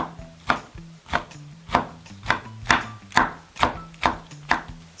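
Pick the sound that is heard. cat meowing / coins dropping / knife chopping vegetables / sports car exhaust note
knife chopping vegetables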